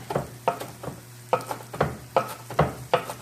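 Pork chops fry in a pan with a low, steady sizzle, broken by about eight regular, close scraping strokes as the pan is worked.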